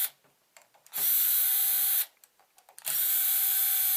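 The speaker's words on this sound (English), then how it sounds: "So to remove the head, it's real simple. Take the 4 screws off." A power drill backs screws out of the head of a Chugger pump in two separate bursts, each whirring steadily for about a second, close and clear, with quiet gaps between.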